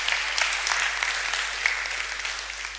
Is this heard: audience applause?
yes